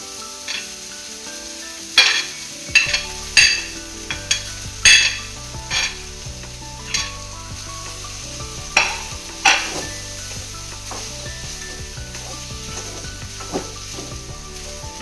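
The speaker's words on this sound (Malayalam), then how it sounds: "നമ്മൾ റൈസൊക്കെ ഇട്ട് നമ്മൾ നല്ലപോലെ മിക്സ് ചെയ്തിട്ടുണ്ട്" Cooked rice is stirred into a sizzling tomato masala for tomato rice, with a steady frying hiss and sharp spoon scrapes and clinks against the pan every second or so, close and clear, no talking.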